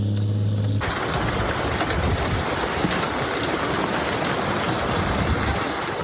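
Hail pours down steadily during a severe storm in Cresson, North Texas, near the Johnson and Parker County line, a dense, loud, continuous hiss and patter of golf ball-sized stones that starts abruptly and keeps up without a break.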